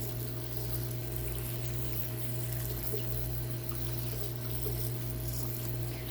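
Water pours steadily onto a small shoebox worm bin, giving a continuous close-up splash and trickle with a low hum underneath and no talking.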